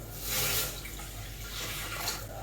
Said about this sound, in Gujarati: આ નાખશું આપણે 2 ગ્લાસ પાણી